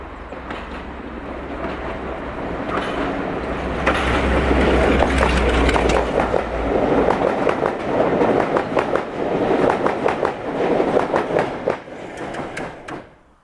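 A Class 42 diesel-hydraulic locomotive rumbles past on a heritage railway, its low engine drone swelling as it nears, followed by the rhythmic clatter of wheels over rail joints as the train goes by.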